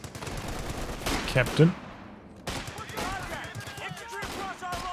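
Gunfire in Company of Heroes 2 as Sherman and Pathfinder units fight, rapid bursts of shots and crackling impacts at moderate loudness, with a commentator's voice briefly heard.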